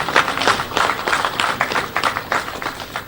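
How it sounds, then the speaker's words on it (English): An audience at a Presidential Transition Council gathering gives sustained, dense applause for the head of the civil service, the transition document chairperson, with a steady wash of many hands throughout. "we give her a round of applause"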